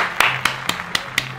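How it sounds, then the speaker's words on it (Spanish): Five sharp, evenly spaced hand claps, close and fairly quiet, with a faint low hum between them and no voices. "Aplausos para ti."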